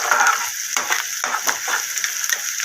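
Cabbage with turmeric stirred in a hot pan for an egg cabbage dish, a bright sizzle broken by repeated rustling, scraping strokes in an uneven rhythm, close and fairly loud.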